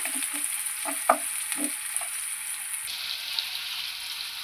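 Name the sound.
onions frying with salt and sugar in a pan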